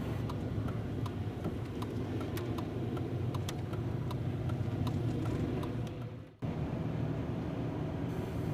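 Near Route 66 in the Mojave Desert, a train passes with faint, distant rhythmic clicking over a low steady rumble, broken by a sudden brief cut near the end.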